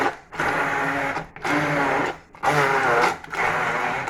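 A blender purees panzanella salad for a Bloody Mary in four loud whirring bursts separated by short pauses, each a steady motor drone with a gritty churn, close by and without speech.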